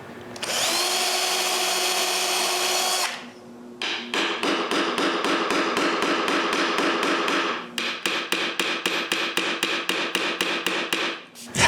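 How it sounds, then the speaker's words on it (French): A brief, steady whine of drilling into a wooden frame gives way to many rapid, sharp hammer taps driving a small nail to fix a hook, struck close up in quick rhythmic runs. "Finalement, je cloue le crochet."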